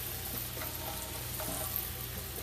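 Steady, dense sizzling of salmon nuggets deep frying in hot oil, continuous and close, with a few faint clinks, no talking.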